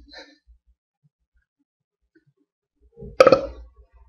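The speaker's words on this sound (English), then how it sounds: "His belch materialized, and Spike did a little dance of joy." A cartoon character lets out a single short, loud belch after a quiet pause, one burst of sound standing alone.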